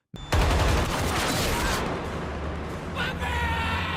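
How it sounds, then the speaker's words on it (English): A loud, dense burst of rapid gunfire erupts and continues as a sustained volley of overlapping shots, close and harsh throughout. "a shootout ensues, with the two opposing teams firing at each other"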